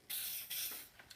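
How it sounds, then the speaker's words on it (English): WD-40 is sprayed onto a Stanley No. 3 Bailey hand plane in two short, soft, close hissing bursts, with no talk over them. "So now we can put a little bit more WD-40"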